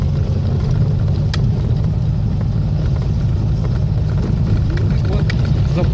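ZAZ-965 Zaporozhets cars driving on a country road past dachas, a steady loud engine drone and road rumble heard from inside one of the cars, with no break throughout.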